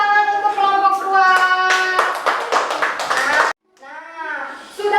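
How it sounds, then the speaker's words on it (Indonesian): A classroom applauds a student group with rhythmic, patterned clapping mixed with children's voices chanting along, followed by a short pause and more voices. "Tepuk tangan untuk kelompok 2."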